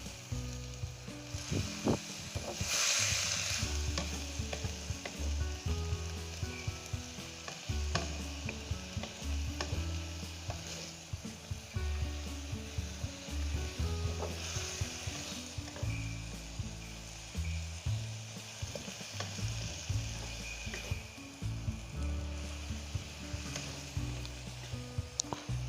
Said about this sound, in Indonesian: Sambil kita aduk terus.